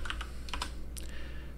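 Quick bursts of keystrokes on a computer keyboard, close and crisp, a few taps then a short pause and another cluster over a low hum.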